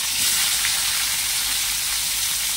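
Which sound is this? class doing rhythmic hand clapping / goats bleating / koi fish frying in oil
koi fish frying in oil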